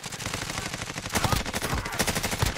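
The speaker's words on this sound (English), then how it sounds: "People are shooting from up top of there." Automatic weapons firing in Call of Duty: Warzone, a close, rapid stream of shots with heavier punchy bursts toward the middle and end, loud and continuous with no talk.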